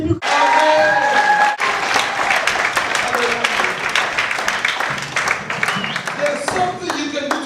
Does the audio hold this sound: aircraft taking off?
no